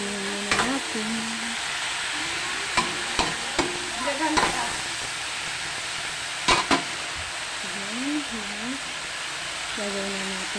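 Vegetables being stirred and sautéed in a home-cooking pan, with a steady sizzling hiss throughout, several sharp utensil scrapes and knocks against the pan, and a voice speaking intermittently over the frying.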